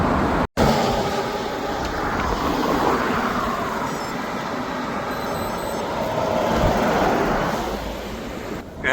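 Road traffic booms inside a busy tunnel in Hokkaido, Japan, while cycling through it, with a continuous loud rumbling roar that swells as vehicles pass close by and briefly drops out near the start, with no voices.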